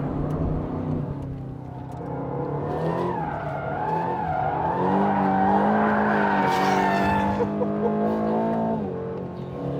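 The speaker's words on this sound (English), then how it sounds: "There's quite a loud pop when you do those gear shifts." An Aston Martin Vantage in track mode accelerates hard, its engine note climbing through gear shifts with sharp exhaust pops at each change, loud and close, with some tyre squeal.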